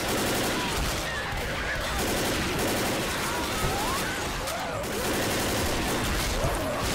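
Sustained gunfire in Left 4 Dead aimed at barrels, dense automatic bursts firing in repeated stretches with brief pauses, loud and close, with faint voices underneath.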